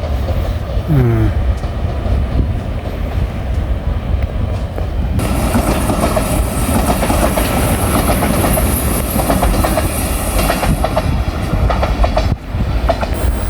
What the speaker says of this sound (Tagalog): Yan yung tren na sinakyan natin.